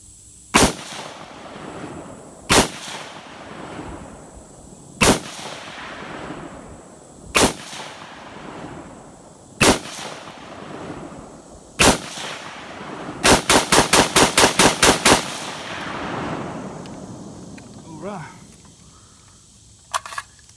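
Bushmaster rifle fired outdoors at a bottle target: six loud single shots spaced a couple of seconds apart, then a fast string of about ten rapid shots, each with a ringing tail, no talking.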